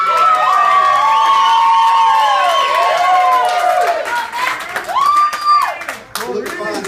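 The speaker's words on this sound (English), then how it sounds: "I want everybody to give a round of applause for Corey Beth." Wedding guests cheer and clap for the bride during the toasts, loud whoops and high shouted voices dominating over a bed of applause, fading toward the end.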